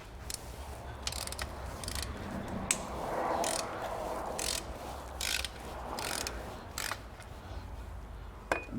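A ratchet wrench clicking as it loosens a bolt on a Citroen C5 engine during clutch replacement, quick bursts of sharp metallic ratcheting repeated across the stretch, close but fairly quiet, with no talking.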